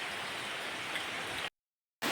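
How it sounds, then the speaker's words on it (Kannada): Steady light rain patters on surfaces with a soft continuous hiss, cutting out briefly to silence near the end. "ಇಷ್ಟು ಲೈಟಾಗಿ ಮಳೆ ಬರ್ತಾ ಉಂಟು"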